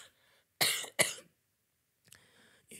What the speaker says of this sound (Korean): 기침을 하는데